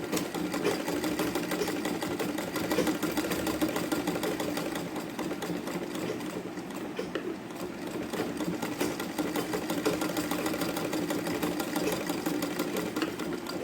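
A sewing machine stitches small square pleats on a sleeve with a continuous rapid mechanical whirr, close and steady, dipping briefly midway before resuming at full pace.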